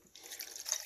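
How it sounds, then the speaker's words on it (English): Cask wine (goon) is poured into a container, a soft, steady liquid trickle that begins after a brief quiet moment and runs faint and close with no talking. "first we start with pouring the Goon"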